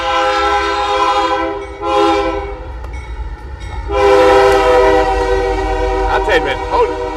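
A train passes a rural Louisiana depot with its horn sounding, loud and close. Long harmonic horn blasts come over the rumble of the rail cars, with a brief gap between blasts.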